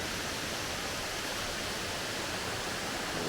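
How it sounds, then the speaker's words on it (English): A steady, even rush of falling water from a waterfall on Ontario's North Shore, constant and moderately distant, with no voices or other sounds. "you might actually get to see the waterfall. And the waterfall is right there."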